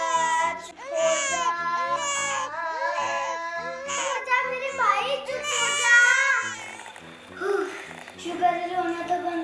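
A baby doll cries during pretend play with a series of high, wavering wails and sobbing bursts, rising and falling with short breaks in between. The crying is close and fairly loud.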